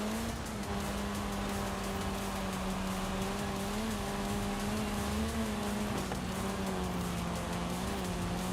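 Steady racing-car engine drone with shifting revs and tire noise from a four-wheel-drive car in Forza Horizon, loud and continuous throughout, no talk over it.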